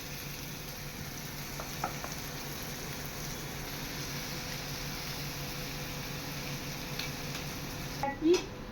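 Spices fry in a pan for a rohu fish curry with onion, giving a soft, steady sizzle and faint stirring. A few clinks and a brief louder knock come near the end.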